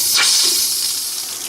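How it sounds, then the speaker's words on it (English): Loud, steady rushing hiss of water filling an RV water heater after a flush, a continuous broadband spray-like sound that fades slightly over the clip, with no speech. "we should be good to fill her back up and check for leaks."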